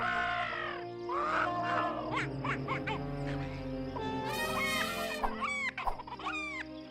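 Animals and birds crowding into Noah's ark in an animated Bible story: loud overlapping chicken clucks, a rooster crow and other bird calls layered together.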